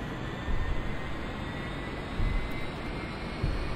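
UH-1H Huey helicopter in DCS spinning up, its turbine and rotor giving a steady, even broadband roar with a thin rising whine and a few soft low thumps along the way.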